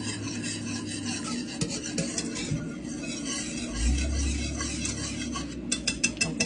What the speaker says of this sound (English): when you see it start to separate a little bit, just mix it together